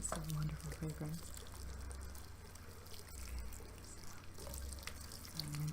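Running water rinsing something out, a soft continuous trickle and pour, quiet and close under a faint murmuring voice.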